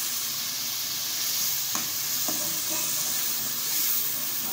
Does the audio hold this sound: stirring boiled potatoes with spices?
yes